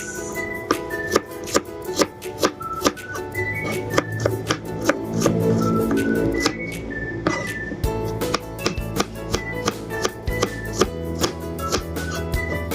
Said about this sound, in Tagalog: ito na guys, magagayat na tayo ng sibuyas